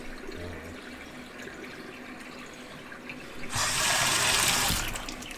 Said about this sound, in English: So you got a nice whirlpool there. That's what you want to see. You want to see these whirlpools. That means it's draining good.